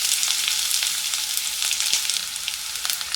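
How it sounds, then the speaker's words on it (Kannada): Mustard seeds and crushed garlic frying in hot oil for a puffed-rice chivda snack: a close, steady crackling sizzle with quick pops scattered throughout. "ಕಾದ್ಮೇಲೆ ಈಗ ಇದಕ್ಕೆ ಸಾಸಿವೆ ಹಾಕೋತಾ ಇದ್ದೀನಿ"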